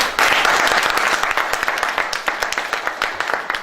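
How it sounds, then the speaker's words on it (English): Lecture audience claps loudly and close by, thinning into more scattered individual claps toward the end. "we want applause for them also"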